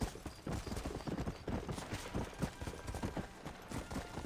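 Horse hooves clip-clop in the Red Dead Redemption video game, a steady galloping rhythm of soft thuds running throughout over a dense background.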